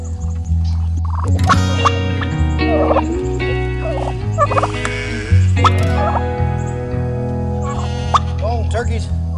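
Several turkeys on a ranch gobble loudly and close by in overlapping bursts, with warbling calls rising and falling throughout, joined by a few soft plops and a person talking in between.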